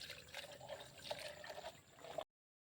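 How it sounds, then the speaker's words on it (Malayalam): Water poured into a ground fenugreek mixture gives a steady close trickle and gurgle that lasts about two seconds and then stops abruptly, with no talking. "ഇതിലൊരു 5 ഇരട്ടി വെള്ളം ഒഴിച്ചിട്ട്"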